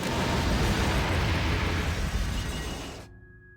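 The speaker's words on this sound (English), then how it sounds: "I'm dropping bombs. So drop the bomb." Bombs exploding in the video game Carrier make a loud, sustained rumbling blast with deep booming bursts that roll on for about three seconds before cutting off, with no talk over them.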